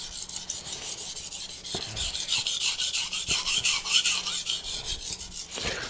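Hap40 steel knife blade being sharpened on a CBN whetstone, a rapid series of gritty rasping strokes, close and rhythmic, with a few sharper scrapes between passes.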